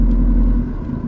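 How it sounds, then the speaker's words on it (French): A vehicle manoeuvring to park, a close, heavy low engine rumble that drops slightly partway through, no speech. "il veut garer bien le véhicule"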